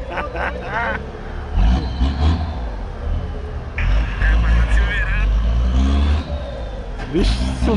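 A Chevrolet Silverado with a six-cylinder MWM turbo diesel engine accelerates away on a dusty road, its loud, rough engine roar holding steady throughout while people talk excitedly over it.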